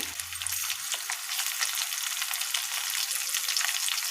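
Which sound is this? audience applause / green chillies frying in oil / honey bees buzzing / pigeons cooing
green chillies frying in oil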